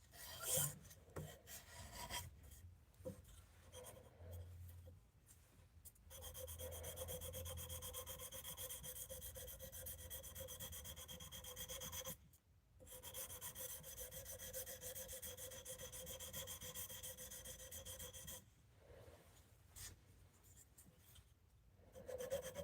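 An edge is ground by hand on a 400 grit abrasive, making repeated raspy scraping strokes close up, with sustained rubbing passes broken by short pauses and no one speaking.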